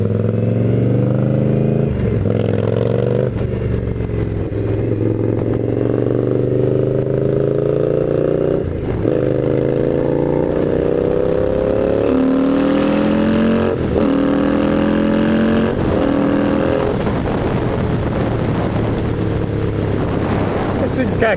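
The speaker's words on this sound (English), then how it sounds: "You just keep pulling gears and you go as fast as you want this thing to go." A 2016 Indian Scout motorcycle with a 6-speed gearbox rides at dusk in Tucson, Arizona, its loud steady engine note rising in pitch through each gear, then dipping at every shift, with wind rush throughout and no voices.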